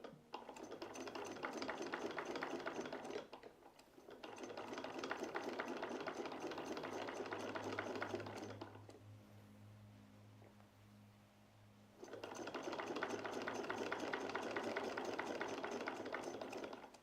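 A sewing machine stitching a seam for historical tailoring, running in three long steady bursts of rapid mechanical clatter, close and even, with a pause of several seconds between the second and third runs.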